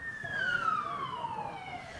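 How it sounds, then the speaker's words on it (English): A single siren sweeping downward in pitch, fairly clear and moderately loud, heard over quiet outdoor ambience at a country carnival bowls match. "So we hear our first siren for the day, Chook."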